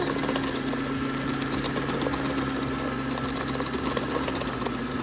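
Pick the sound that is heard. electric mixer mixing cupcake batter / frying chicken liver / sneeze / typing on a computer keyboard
electric mixer mixing cupcake batter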